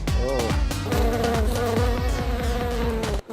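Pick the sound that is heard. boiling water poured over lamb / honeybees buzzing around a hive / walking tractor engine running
honeybees buzzing around a hive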